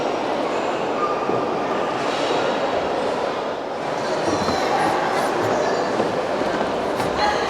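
An Intercity 125 train rushes past close by with a steady, loud roar of wheels and air that holds throughout, with faint rattling on top.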